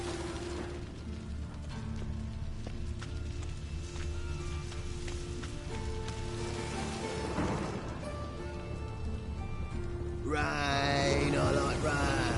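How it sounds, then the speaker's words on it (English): Steady rain falls in The Witcher 3, a constant hiss running unbroken for about twelve seconds, with a faint mechanical rattle and low rumble beneath and the downpour swelling a little louder near the end. "Rain, I like rain."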